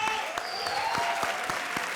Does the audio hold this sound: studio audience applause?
yes